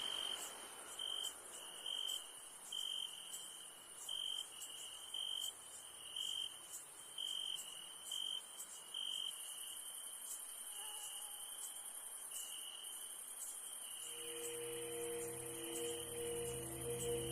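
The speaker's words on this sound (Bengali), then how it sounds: "ঝিঝি পোকার ডাকে কানে তালা ধরে যাচ্ছিল" Steady, high-pitched cricket chirping pulses in a continuous rhythm, joined near the end by a low droning hum in the background.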